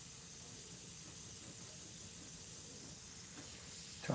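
An airbrush sprays dark paint over a tornado painting in a steady, soft, continuous hiss of air, faint and close, with a small bump of noise right at the end.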